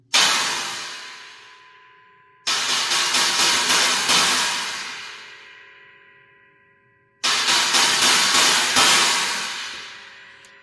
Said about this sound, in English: a Byzance dual trash crash, 18-inch. So this makes a unique sound.